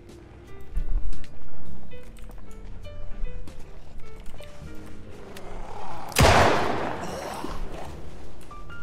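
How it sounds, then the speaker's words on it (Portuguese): A single sharp gunshot in Project Zomboid bangs out midway and rings off, over a steady backdrop of quieter game sounds. "Ah, ouvi um tiro, hein?"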